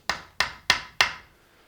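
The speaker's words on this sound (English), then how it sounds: "New Magnuson hammers from B&Q." Four sharp hammer strikes with a new Magnuson hammer from B&Q, evenly spaced and close, each a crisp woody knock with a short decaying ring, likely driving a nail into wood during guitar building.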